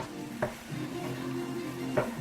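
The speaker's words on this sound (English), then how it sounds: "you need to keep still frying it" Spam fried rice sizzling and frying in a pan with light soy sauce, a steady crackle punctuated by a couple of sharp clanks of a utensil against the pan.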